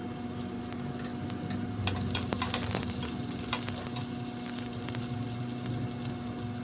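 Garlic and onion sautéing in a pan, cooked for fish with black beans and ampalaya, crackle and sizzle steadily up close, with stirring clatters and a few sharp utensil knocks in the middle and no voices.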